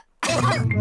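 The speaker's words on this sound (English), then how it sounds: "All the grown-ups have caught Pedro's cough." A cartoon character gives a rough, sustained cough after a short silence, loud and close, with a harsh voiced rasp running most of the way through; the cough is a vocal performance for a children's animated show.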